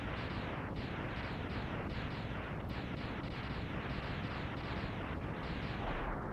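Sigma's floating fortress blows apart in Mega Man X with a continuous, roaring rumble of explosions, dense and loud throughout, with repeated blasts surging one after another.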